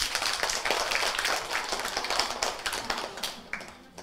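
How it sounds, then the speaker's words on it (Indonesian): Applause from a crowd of kindergarten children at a school event, a dense patter of small hands clapping fairly close and loud, tapering off over a few seconds. "Beri tepuk tangan"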